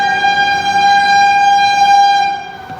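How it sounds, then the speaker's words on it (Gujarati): A Vande Bharat express train passes close by, its loud sustained horn blaring for a couple of seconds over rumbling wheels before fading at the end. "વંદે ભારત જાય જો વંદે ભારત ગઈ"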